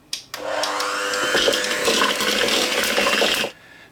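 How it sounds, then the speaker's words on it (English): An electric mixer beats butter and cream cheese in a bowl, starting with a click and whirring steadily and loudly for about three seconds with a rattling, churning texture before cutting off. "Now using the electric mixer, we are just going to beat these two together."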